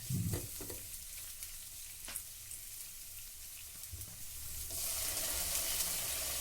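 Green chillies and onions sauté in a pan for a jackfruit roast, with a few scraping stirs and light crackles early on, then a soft sizzle that swells into a steady, hissing fry.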